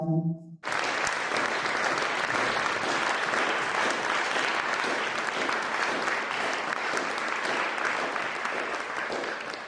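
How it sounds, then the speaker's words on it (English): Sustained applause from an audience at an eye hospital charity event starts abruptly after a short voice and keeps up as dense, even clapping until it fades slightly at the end. "I wonder if we should give a round of applause to the team in Jerusalem and Gaza and the West Bank as well."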